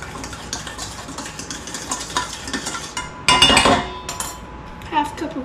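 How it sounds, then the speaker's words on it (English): A spoon stirs freshly squeezed lemon juice and half a cup of sugar for lemon sorbet, giving quick repeated scraping clinks against the bowl with a louder clattering burst near the end. "We're gonna add a half cup of sugar. Mix it up a little bit."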